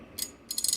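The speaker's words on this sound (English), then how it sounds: "I have the 3/4 inch wrench or ratchet. I have one over here in the toolbox, and this will work fine." A 3/4 inch gear-drive ratchet wrench gives two short bursts of rapid metallic clicking, close and fairly loud, separated by a brief pause, with no talking.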